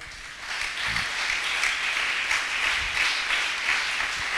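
A church congregation applauds together in a sustained, even burst of clapping that fills the room from start to finish, loud and steady with no voices rising above it.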